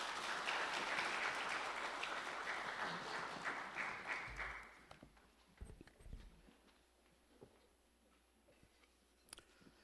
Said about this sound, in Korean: 박수로 한번 맞읍시다.